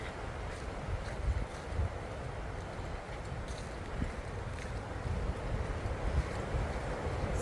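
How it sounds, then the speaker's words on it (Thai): Strong sea waves roll in at Bass Point on the Australian coast, a steady broad roar of surf mixed with wind buffeting the microphone, continuous and fairly distant, with no talking. "เสียงคลื่นแรงมากพี่น้อง"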